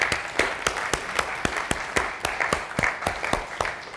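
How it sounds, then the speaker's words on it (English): An audience at a jury luncheon gives a round of applause for the jurors, steady close clapping from a modest crowd with distinct individual claps throughout. "Let's give a round of applause to our jurors."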